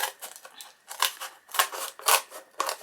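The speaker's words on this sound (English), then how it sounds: "let's just cut this to size" Scissors cutting card to size for a junk journal page, a close series of crisp snips and crunches in an uneven rhythm of about six bursts.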